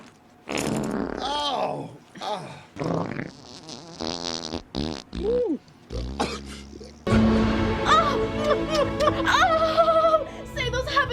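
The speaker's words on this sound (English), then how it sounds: "Camels farting." Camels let out a string of loud, sputtering fart noises in short bursts, followed by a busier stretch of snorts and squeals, with a person reacting briefly over them.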